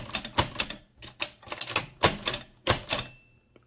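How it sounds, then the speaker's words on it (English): Rapid keystrokes on a 1925 AEG Mignon 4 index typewriter, a dense run of sharp mechanical clacks in uneven bursts, with a ringing carriage bell near the end of the line, close and clear with no talk. "say you're typing a character, you'll hear the first bell."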